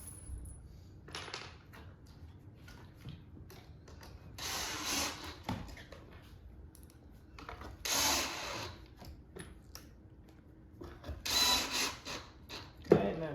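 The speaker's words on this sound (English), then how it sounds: "It's going to kind of hold pressure on the back side as you're screwing it in" Screw being driven by hand to join wooden parts of a farmhouse shoe and boot bench, quiet repeated ratcheting clicks between brief louder bursts, close and faint.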